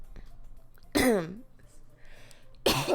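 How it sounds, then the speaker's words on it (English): Two harsh, sudden coughs, a couple of seconds apart, loud and close against a quiet background. "Sorry, you guys. I keep coughing. This cough is killing me."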